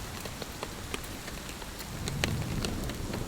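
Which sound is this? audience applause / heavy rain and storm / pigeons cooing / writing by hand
heavy rain and storm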